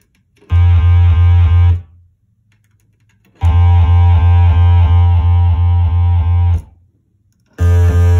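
A modular synth's Zlob VC F3DB fixed filter bank sends out its even mix output as it filters an oscillator. Three loud, buzzy, pulsing tone bursts stop abruptly, separated by short silences.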